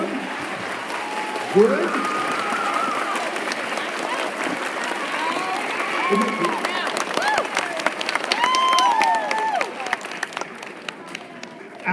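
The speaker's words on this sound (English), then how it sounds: "we heard that clapping go from over here across the gym" Students clap across a gym during a solar eclipse assembly, a sustained, crackling wave of applause from many hands at moderate distance, with scattered voices and a short spoken word over it.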